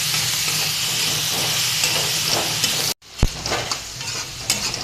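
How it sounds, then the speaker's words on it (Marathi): Cabbage vegetable curry sizzles in a pan as it is stirred, a loud constant hiss and frying crackle that briefly cuts out, then resumes with a spoon clunk and scraping. "हे बघा, हे सगळीकडून आपण आणखीन एकदा हलवून घेऊ."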